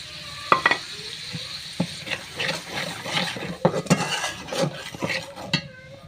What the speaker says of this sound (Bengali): এবার মশলা আমি ভালো করে কষিয়ে নিব